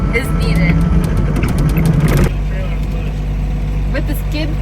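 A skid steer loader's engine runs with a steady low rumble that is louder at first and then settles slightly. People talk over the machine noise.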